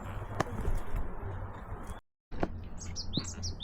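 Birds chirp and tweet in short, bright calls over a steady outdoor hush on a rocky mountain trail at Palbongsan in Hongcheon. One cooing call is also heard, and the sound cuts out briefly partway through.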